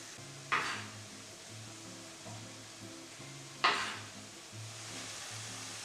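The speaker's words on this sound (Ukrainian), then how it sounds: "І зараз буду додавати ковбаски, тому що ковбаски повинні легко обсмажитися." Sausages frying in a pan with onions and tomatoes, a soft steady sizzle with two sharp clatters of stirring utensils against the pan, and a low hum beneath.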